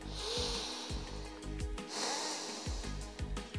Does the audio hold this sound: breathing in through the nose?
yes